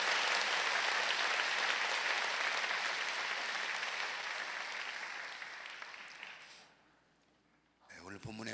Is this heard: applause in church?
yes